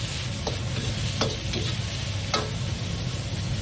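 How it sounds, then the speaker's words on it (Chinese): Celery, carrot and yam, just added to garlic slices, stir-fry in a hot wok, giving a steady crackling sizzle with a few sharp scrapes of the spatula, close and without speech. "胡萝卜和山药翻炒。"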